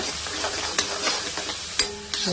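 Onions fry in a heavy-bottomed pan for paneer butter masala, with a continuous close sizzle broken by a few scraping strokes and taps of a spoon as they are stirred.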